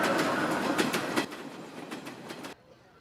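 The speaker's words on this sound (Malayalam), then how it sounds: "പക്ഷേ ട്രെയിൻ ക്രോസ് ചെയ്ത ശബ്ദം കേട്ടു" A train passes with a steady rumbling roar and rhythmic clickety-clack of wheels over rail joints, fading after about two and a half seconds.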